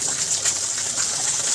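Fresh water pouring and splashing steadily into a duck enclosure on a homestead, a continuous hissing gush held at the same level throughout, close by and with no talking.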